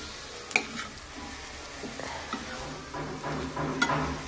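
Prawn fry being stirred in a pan over a low flame with garam masala, a soft steady sizzle broken by a few sharp scraping clinks of the spoon against the pan, fairly quiet throughout.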